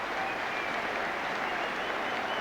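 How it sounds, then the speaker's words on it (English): A football crowd at an Ipswich Town versus Arsenal match in 2000/01 applauds Jermaine Wright, a steady, distant wash of clapping and crowd noise that holds at an even level throughout, with no voices standing out. "The applause is for Jermaine Wright."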